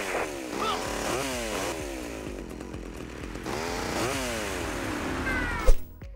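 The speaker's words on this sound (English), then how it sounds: "the chainsaw, which was absolutely brutal." Chainsaw in the video game GTA Vice City, a buzzing motor whining up and down in repeated revving sweeps over a busy game soundscape, ending in a sharp burst.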